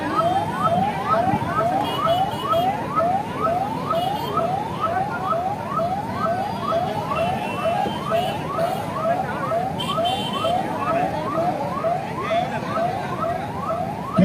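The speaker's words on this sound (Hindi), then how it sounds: "आप देखिए किस प्रकार से एम्बुलेंस निकल रही है।" Ambulance siren wailing as it pushes through a dense crowd at a political gathering, a loud, rapid repeating yelp cycling steadily over a constant murmur of people.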